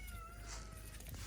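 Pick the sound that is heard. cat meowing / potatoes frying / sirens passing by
cat meowing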